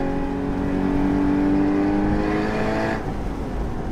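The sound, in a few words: Porsche Boxster Spyder 981 engine accelerating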